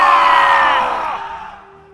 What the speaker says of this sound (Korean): 가야군과 외나라군이 지르는 함성이 하늘과 땅을 뒤흔들 듯이 들려왔습니다.